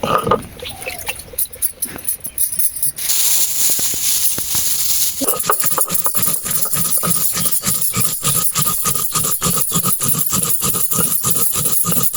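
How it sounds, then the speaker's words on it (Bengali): Spices are ground into a coarse paste on a stone, a steady rhythmic grinding and scraping that stays loud and close throughout, with brief rough strokes near the start. "এখন মশলাটা বেটে নিচ্ছি।"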